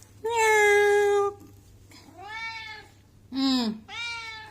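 Cat named Timmy meowing close up, one long loud meow followed by softer, shorter mews and another sharp cry, with a faint hum underneath.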